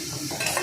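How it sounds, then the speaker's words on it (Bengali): Egg frying in white oil and being stirred: a close, soft sizzle under quick scraping strokes of a utensil in the pan, quiet overall. "এখানে ডিমের সাদা তেলের মধ্যে একটু ডিম দিয়ে তারপর একটু লবণ দিয়ে একটু ভালো করে ভেজে নিচ্ছি"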